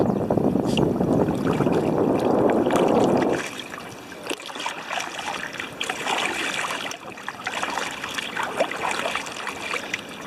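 An inflatable fill-free kayak paddled on water near Forster Tuncurry, with a rushing water wash at first that gives way to softer trickling and light paddle splashes.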